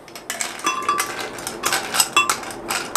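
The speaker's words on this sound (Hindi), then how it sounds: "और साथ ही थोड़ी सी आइस डाल दूंगा।" Ice cubes for a mango piña colada clink and rattle against a glass blender jar in a quick series of bright, close knocks and chinks.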